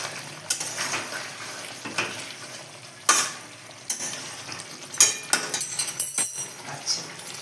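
Tomatoes frying and being stirred in oil in a pan: a spoon scrapes and clinks against the pan in irregular strokes over a soft, steady sizzle.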